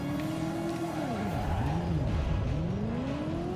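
A car in the Driver video game spins a forward 180 with a loud engine drone and tire squeal, its pitch dipping and swooping in arcs as the car whips around.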